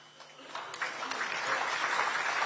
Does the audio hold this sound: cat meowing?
no